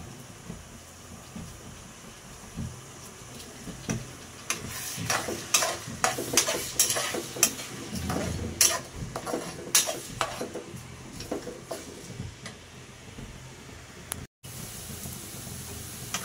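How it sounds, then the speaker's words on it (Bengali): Onions frying in oil with green chili, bay leaf and garam masala, a steady close sizzle broken by repeated scraping and clinking stirs of a spoon against the pan, no talking. "তেল, কাঁচামরিচ, তেজপাতা, গরম মশলা দিয়ে এটাকে সুন্দর করে লাল লাল করে একটু ভেজে নিব"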